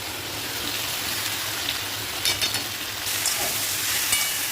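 Vegetables frying in hot oil for a vegetarian tarkari, a steady crackling sizzle like light rain with occasional louder spits and bursts of stirring.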